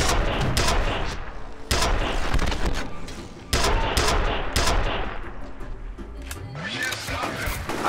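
Rapid gunfire in the shooter game F.E.A.R., with bursts of loud automatic shots and sharp reports repeating in quick clusters, close and dense, with someone talking over parts of it.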